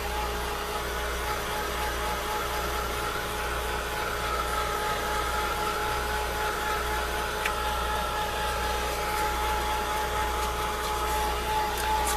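A steady, loud hair-dryer-style blower drones on continuously, drying paint on envelopes in a garage, its whine unchanging from start to finish with no talking.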